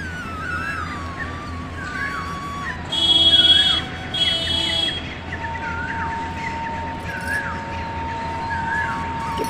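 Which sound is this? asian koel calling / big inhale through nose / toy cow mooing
asian koel calling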